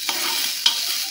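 Rice, lentils, vegetables, water, salt and turmeric stirred together in a pot for khichuri on a home stove, a brief close scraping stir over a steady hiss with a couple of light clinks.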